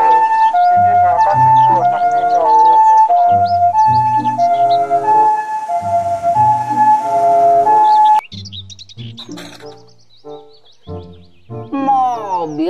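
A toy ambulance plays an electronic siren tune, bright stepped beeping tones repeating loudly, then shifting into a sparser, warbling pattern with gaps and a rising-falling sweep at the close.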